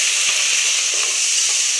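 Ginger garlic paste sizzles and fries in hot oil with lightly browned onions, a steady loud crackling hiss with small stirring bumps, heard alone while cooking aloo biryani.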